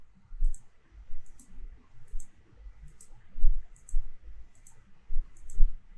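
A computer mouse gives several sharp, close clicks, mostly in quick pairs, spread evenly over a few seconds against a quiet low rumble with no voices.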